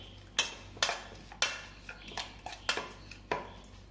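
A spoon works onion salad with vinegar in a bowl, and the utensil knocks and scrapes against the dish in sharp, uneven clinks about every half second. The sound is close and moderately loud, with no talking.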